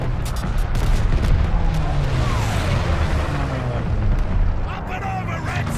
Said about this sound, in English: Here come the bombers!